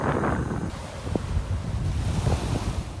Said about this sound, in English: And we have a quick evening walk around to the beach, which is literally 100 metres from Harry.